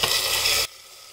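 Chopped tomatoes sautéing in a pressure cooker pan, a bright, hissing sizzle with stirring that cuts off abruptly partway through, leaving near silence.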